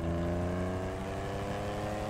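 Car engine in GTA 5 Online, a steady humming drone with tonal whine that holds at a constant pitch, fairly quiet and without any talk over it.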